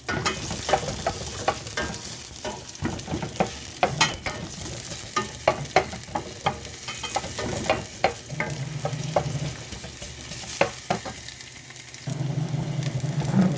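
Onions fry in a pan for adobong sitaw, a continuous sizzling hiss broken by frequent clicks and scrapes of a spatula stirring, close and fairly loud throughout.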